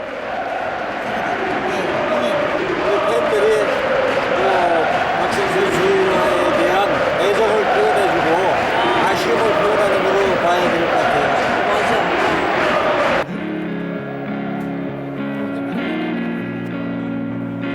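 Football stadium crowd at PSV Eindhoven giving a standing ovation, a loud sustained roar of applause and cheering for about thirteen seconds before it cuts to quieter, tonal chanting or singing.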